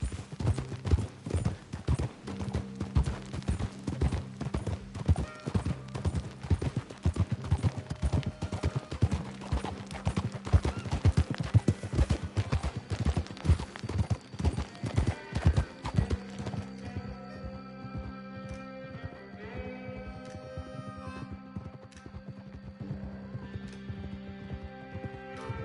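Horse galloping in the Red Dead Redemption 2 video game: rapid, continuous hoofbeats pounding at close range, then easing into a slower clip-clop with faint game ambience behind.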